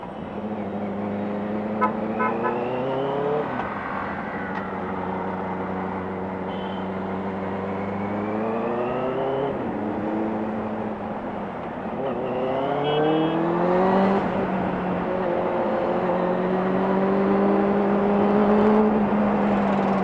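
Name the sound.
Benelli 600i motorcycle engine revving at high RPM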